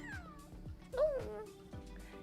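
A two-month-old kitten gives one short, clear meow at close range amid soft low background noise.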